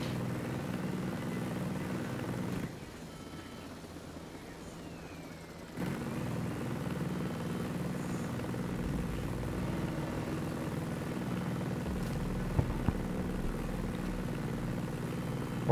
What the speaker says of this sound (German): Irgendwie fliegt der Heli schon langsam, hä?